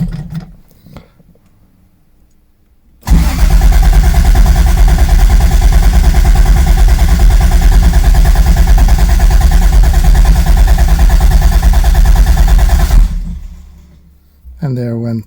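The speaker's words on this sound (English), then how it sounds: "So I'm currently sitting in my Supra and it's time to try to start it." A Toyota Supra Mk3 engine is started from the driver's seat after a quiet pause. It catches and runs loud and steady for about ten seconds, then cuts out abruptly, leaving near silence.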